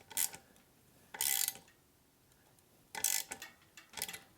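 Torque wrench set to 4 newton meters clicking on carbon fiber road bike handlebar bolts: four sharp, near clicks spaced across a quiet background, two of them louder bursts.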